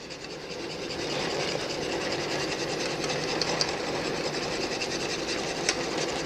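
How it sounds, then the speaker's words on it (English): Cocoa mixture whisked rapidly in a pot off the heat, a continuous fast scraping and clicking of a whisk against the pan, steady and close throughout. "you want to whisk it in nice and quickly"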